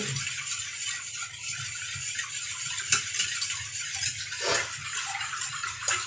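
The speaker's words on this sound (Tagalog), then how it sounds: "Hanggang matunaw, haluin lang" Gulaman (gelatin) is stirred in liquid in a pot until it dissolves, for buko pandan salad. A steady, close swishing runs throughout, with faint scrapes and a few light clinks; nobody speaks.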